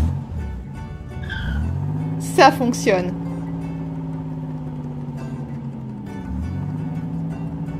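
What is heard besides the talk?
cartoon car engine starting and running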